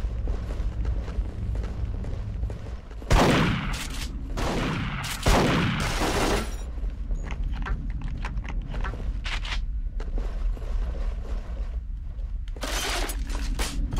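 Heavy shotgun blasts boom in Duke Nukem Forever multiplayer, two big shots near the start followed by scattered lighter gunfire and running footsteps, with another loud burst at the end.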